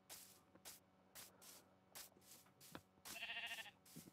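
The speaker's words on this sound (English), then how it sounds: "Oh my gosh, the amount of sheep." Blocky Minecraft sheep bleat in short repeated bursts amid a scattered flock, with clicky game sounds and a brief buzzing tone between the calls, all fairly quiet.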